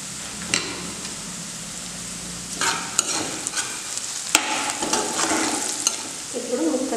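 Cumin powder and turmeric frying in a pan for drumstick curry, a steady sizzle with bursts of scraping stirs and a few sharp utensil knocks, close and fairly loud.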